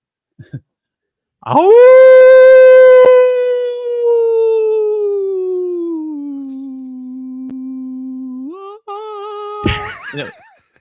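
A man imitates a wolf howling at the moon, a long loud sustained vocal howl that slowly falls in pitch and holds low, followed by a brief rising whoop and a short burst of other voices.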